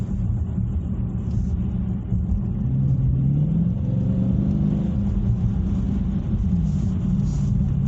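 Muscle car engine cruising at steady low revs in eco mode, a continuous low rumble with a slight swell partway through, heard from inside the car with no talk over it.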